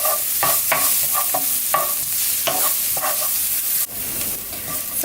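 Garlic frying in a pan over medium-high heat, with a loud continuous sizzle and repeated rhythmic scraping strokes of a utensil stirring it, close up.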